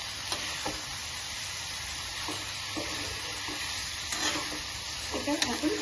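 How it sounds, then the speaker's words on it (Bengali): Chicken for a chicken rezala fries in a pan over high heat with a steady close sizzle, while a spoon or spatula scrapes and stirs in occasional bursts, growing busier toward the end. "ভালো করে নাড়াচাড়া করে দিচ্ছি।"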